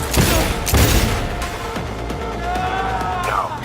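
Gunfire in Cyberpunk 2077 against a huge enemy: a burst of loud, dense shots opens the passage, then quieter repeated rhythmic firing continues under a steady game soundscape.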